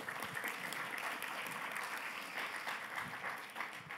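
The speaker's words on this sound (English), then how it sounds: "Let's give them a round of applause." Audience applause at a conference session on metastatic disease, steady clapping from a crowd, fairly faint and distant, with no talk over it.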